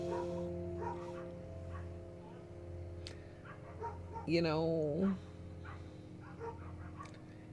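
Dog barking outdoors in the distance, a short yelping burst standing out faintly behind someone talking indoors.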